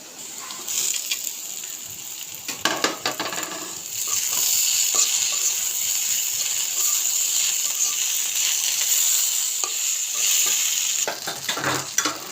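Fish and chopped ginger are stirred in a frying pan for Bengali fish bharta, a hissing sizzle under rapid spatula scraping and clicking bursts, fairly close, with no talk.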